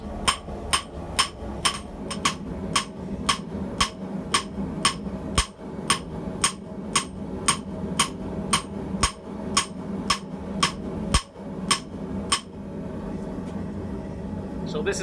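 Sharp metallic hammer strikes ring out at a steady, regular pace, about two per second, as W1 steel is forged over a low background hum, stopping near the end.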